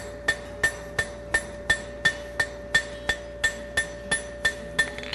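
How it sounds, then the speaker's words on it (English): Steady hammer blows ring on a hot steel horseshoe bar being forge-welded on an anvil, about thirteen sharp metallic strikes in an even rhythm, close and clear with a faint ringing tone between hits. "use the toe of my hammer to blend away the seams"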